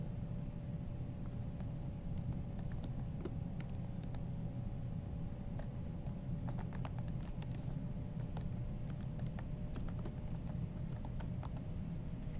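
Typing on a computer keyboard to enter details into an online course form, bursts of quick light key clicks over a steady low hum, fairly close, with no talking.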